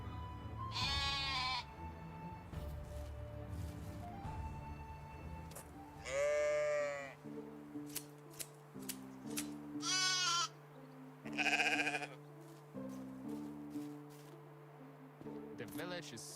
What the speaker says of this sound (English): All this to shear some sheep.